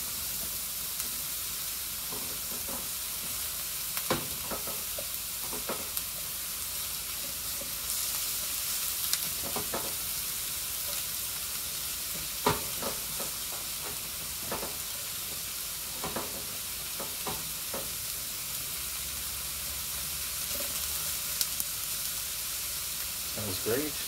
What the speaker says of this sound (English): Whenever I'm cooking with mushrooms, mushrooms have a lot of moisture in them, so they cook best on a nice high heat